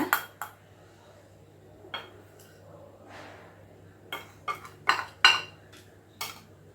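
A spoon scraping and clinking against a metal vessel as chilli powder and spices are mixed for idli milagai podi, several sharp irregular taps and scrapes over a quiet background.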